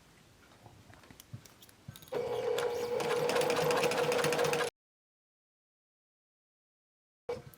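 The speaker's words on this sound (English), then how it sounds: "I like to backstitch over the strap just for strength" Sewing machine backstitching over a wide fabric tie strap on a face mask: soft handling noise, then a close, steady motor whir with needle clatter for about two and a half seconds before abrupt silence and a brief restart.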